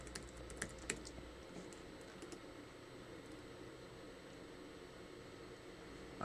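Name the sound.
typing a password on a computer keyboard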